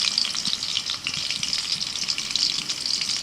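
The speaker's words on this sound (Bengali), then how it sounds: "এই চিকেনগুলো প্রায় ভাজা হয়ে গেছে" Chicken pieces fry in a wok with vinegar and tomato sauce, giving a steady loud sizzle with occasional stirring scrapes and bubbling throughout.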